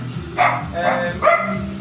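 Dogs barking at a house renovation site, three short barks spaced about half a second apart, close and fairly loud over a low background hum.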